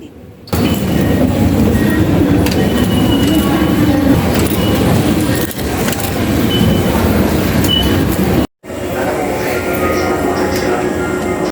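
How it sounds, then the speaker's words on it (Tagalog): A Hankyu commuter train in Osaka, Japan rumbles steadily from inside the carriage, loud and continuous, with a momentary drop to near silence about two-thirds through before the rolling noise resumes. "Sumakay ng Hankyu train papunta sa isang teppanyaki restaurant"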